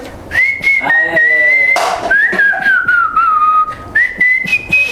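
Melodic whistling through the teeth, bright sliding notes forming a tune, close and clear with short breaths between phrases.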